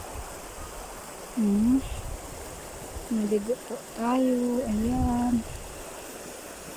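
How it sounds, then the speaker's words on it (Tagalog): A flowing stream in a wooded spot where people bathe gives off a continuous soft rushing wash, while a nearby voice talks over it in short bursts. "Ganda, ganda ng tunog ng agos ng tubig."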